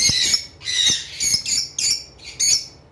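Caged lovebirds in a breeding pair, offered for sale, give about six loud, harsh squawks in short bursts with brief gaps between them.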